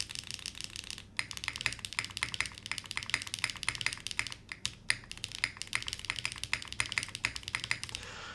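Typing on a T9 mechanical keyboard by Deadline Studio with HMX Sunset Gleam switches, XMI keycaps and bottom foam; dense, close, clacky keystrokes in quick uneven bursts with a few brief pauses, no voices.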